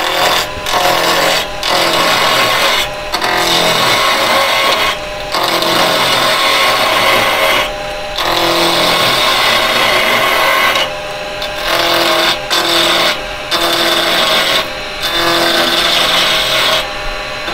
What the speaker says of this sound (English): So I've got my little 1/2 inch spindle gouge, and I'm just going to get this turned away.